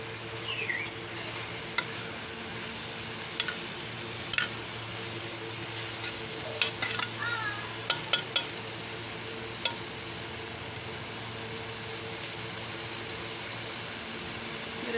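Okra and onion frying in a pan give a low continuous sizzle, broken by several sharp clinks and scrapes of stirring, close and without voices.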